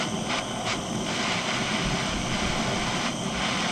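Torch flame heating a plastic fuel tank, a steady loud roaring hiss that runs unbroken throughout, close and constant with faint periodic fluttering.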